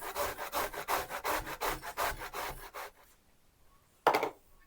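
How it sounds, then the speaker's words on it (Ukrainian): Onion rubbed over a hand grater for ground-meat filling, about a dozen rhythmic rasping strokes, close and loud, then a pause and one last short scrape. "Натираємо цибулю."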